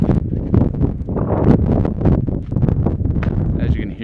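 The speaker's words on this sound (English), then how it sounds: "As you can hear, it's still real windy out." Strong wind gusts at a beach during Hurricane Irene, roaring steadily across the microphone with bursts of buffeting; someone talks over much of it.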